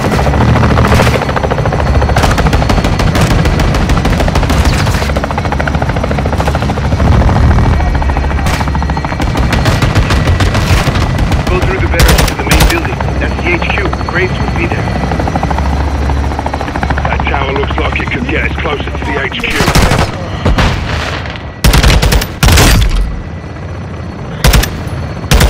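Helicopter gun run in Call of Duty Modern Warfare II: a loud rotor drone runs throughout under bursts of machine-gun fire and sharp impacts, with heavy volleys crowding the final seconds while voices talk over the action.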